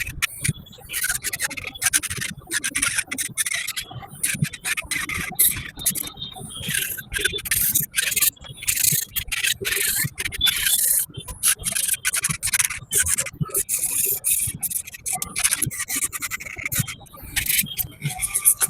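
Electric nail drill grinding gel polish off fingernails, first the flower design then the gel base, a close, continuous dense scraping and rubbing with rapid short bursts throughout, no talking.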